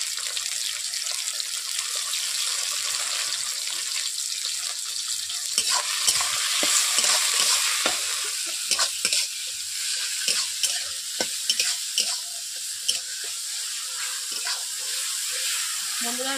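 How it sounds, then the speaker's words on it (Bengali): Chopped onion and tomato with a little salt fry in plenty of oil, giving a constant loud sizzle. In the second half, repeated scraping strokes from stirring come through over the hiss, up close. "পেঁয়াজগুলো আমি ভেজে নিয়েছি ভালো করে"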